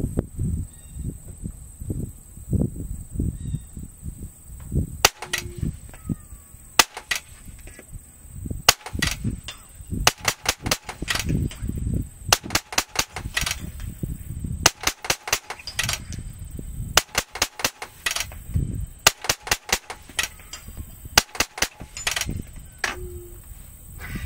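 Rapid bursts of full-auto gunfire at an outdoor range, sharp cracking shots in quick strings separated by short pauses, loud and close, with no talking.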